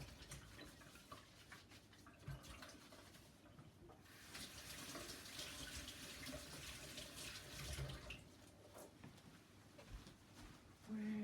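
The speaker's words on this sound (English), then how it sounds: "I gotta do a little washing of the hands." Hands are washed under a running tap in an art workspace: a faint, steady stream of water that swells louder in the middle and then eases, with no talking.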